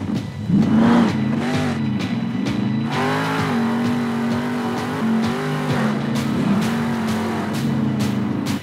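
A monster truck engine in the Monster Jam Steel Titans video game revs up and down steadily with loud, sustained throttle swells and shifting pitch, with no talking.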